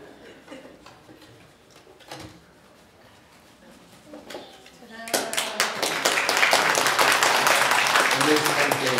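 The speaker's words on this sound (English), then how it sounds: "It was premature clapping." A church congregation breaks into early applause at a Sunday service, a dense burst of clapping that starts suddenly and builds to a sustained roar, following quieter scattered taps and room noise.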